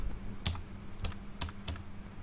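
Four separate clicks of typing on a computer keyboard, spaced about half a second apart, fairly quiet and close with no voices.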